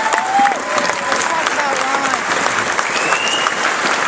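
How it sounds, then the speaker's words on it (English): A crowd at a political rally for Ron Paul supporters applauds the candidates, with sustained loud clapping, a few faint cheers, and voices talking underneath. "Let me give a round of applause on the candidates"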